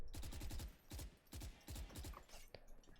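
Rapid automatic weapon fire in the video game Valorant, four quick bursts of several crisp shots each, evenly spaced and loud against a quiet background.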